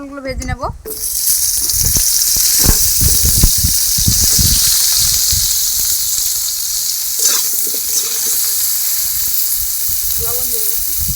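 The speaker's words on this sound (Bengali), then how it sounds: "পটলগুলো ভালো করে ভেজে নেব, লাল লাল করে।" Pieces of pointed gourd (potol) fry in hot oil in a pan, a loud continuous hiss and sizzle that starts abruptly and holds steady, with brief speech heard over it at the start and end.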